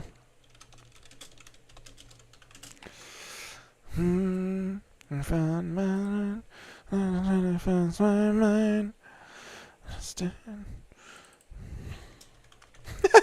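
Fingers type on a computer keyboard in quick clusters of light clicks, broken by a few pauses, with a sustained tonal hum-like voice sound between the bursts of typing.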